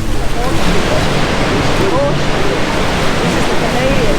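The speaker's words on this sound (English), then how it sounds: "we're on Maid of the Mist at Niagara Falls. We've just gone past the American Falls." A loud, constant roar of rushing water and spray from Niagara Falls fills the air on a tour boat passing the American Falls, mixed with wind buffeting and a faint voice underneath.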